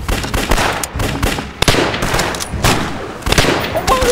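Loud, rapid gunfire from a war drama about fighting Japanese troops crackles in dense, overlapping bursts of shots, with brief gaps between volleys.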